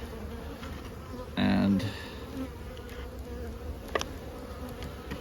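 Honey bees buzz in a bee yard on a warm, mild day, a continuous hum with one bee droning loudly past close by early on; a voice briefly begins to speak.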